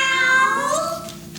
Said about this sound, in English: I only woke up when I heard a cat's meow.